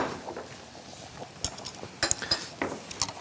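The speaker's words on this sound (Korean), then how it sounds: "제일 먼저 마늘을 살짝 넣어주세요, 이쪽에다가." Garlic tipped into a pan, with a few light clinks of utensils against the metal pan and some soft rustling, close by and moderately loud in brief separate taps.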